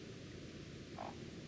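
A leopard frog at a pond gives a short, faint, snore-like croak against a steady background hiss.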